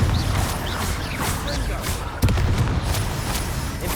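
In Hogwarts Legacy, the Confringo blasting spell goes off as a loud, close explosive boom with a sharp hit partway through, among rumbling game effects and under a voice.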